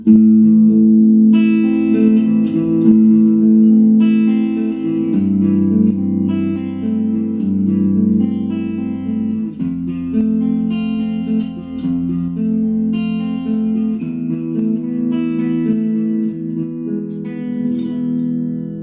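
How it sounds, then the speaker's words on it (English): An electric guitar, a Jackson Randy Rhoads JS32L on its neck pickup alone, with a warm, clean, bassy tone plays sustained chords and melodic lines with light reverb, steady and close. "This is the sound of the neck pickup on its own."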